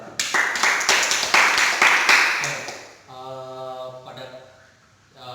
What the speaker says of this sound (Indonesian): tepuk tangan untuk Chandra.